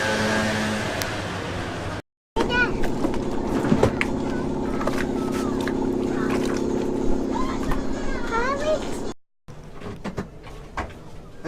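A motorboat engine drones steadily on a boat ride off Corfu, Greece, loud and close with a low hum, mixed with water splash and clatter; the sound cuts out briefly twice.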